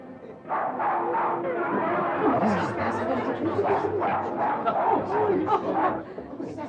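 A dog barks repeatedly inside a busy 1930s casino, the yaps rising over a steady murmur of crowd chatter and voices close by.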